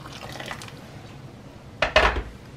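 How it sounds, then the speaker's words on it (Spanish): Boiling water is poured into a pot of potato and panela-cheese soup, a short splashing, gurgling burst rising near the end after a quiet kitchen background. "Es aquí donde le vamos a poner el agua, y el agua tiene que estar hirviendo"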